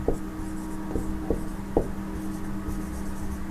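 Pen or chalk strokes of a maths solution being written out, a few separate scratchy marks spaced about half a second apart, close and moderately loud over a steady low hum.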